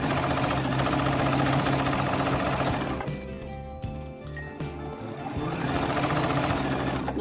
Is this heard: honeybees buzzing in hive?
no